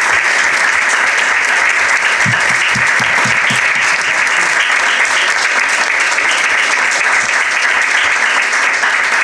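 Sustained audience applause at a conference on livestock farmers and animal advocates, a steady, dense roar of clapping that fills the whole stretch without letup.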